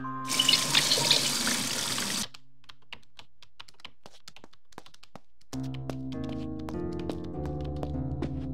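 A watering can pours water onto a potted plant in the Coraline Wii video game: a loud two-second splash of water, followed by soft scattered clicks and then a gentle game music melody.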